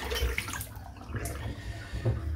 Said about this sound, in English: Rinse my hands off.